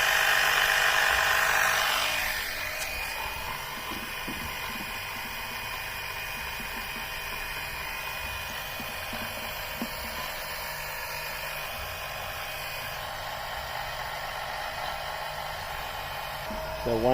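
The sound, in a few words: oil suction pump extracting engine oil from a Mercedes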